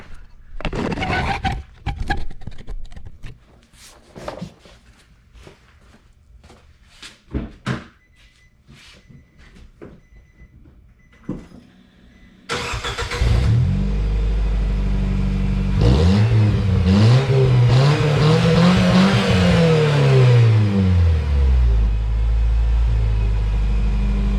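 Nissan Sentra with a new muffler: after scattered clunks and handling noises, the engine starts abruptly and runs loud, then revs up and down in several rising and falling surges.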